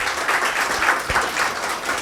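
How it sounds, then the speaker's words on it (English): An audience applauds the participants at the inaugural session of a training program on metabolic disorders: dense, even clapping from a crowd, sustained for a couple of seconds. "can we have a good round of applause for all the participants"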